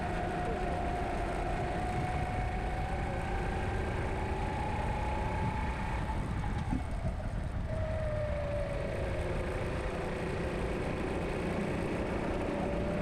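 A rental go-kart engine drones steadily as the kart races around the track, a continuous mid-pitched whine rising and falling slightly with speed, with no talk over it.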